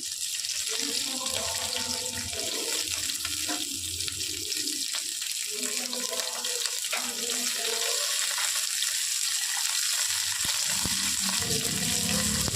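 Paneer frying in a pan as cornflour is added, a steady loud hiss and sizzle filling the whole stretch, with faint voices and scrapes underneath.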